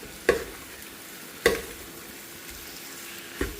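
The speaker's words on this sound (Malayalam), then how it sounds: "ചിക്കൻ ഇട്ടിനി നന്നായിട്ടൊന്ന് മിക്സ് ചെയ്യാം" Chicken stirred into masala in a pan gives three brief, distinct scraping knocks of the spoon against the pan over a faint, low background, with no voices.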